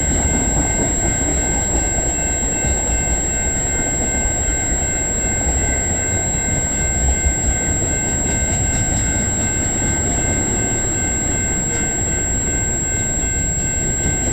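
A freight train with a Tier 4 mid DPU locomotive rolls past at Egerton St in London, Ontario, a loud continuous rumble and rail roar with faint wheel squeal, no voices.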